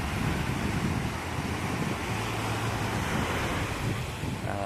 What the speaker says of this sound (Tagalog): Pababa na yung alon yan.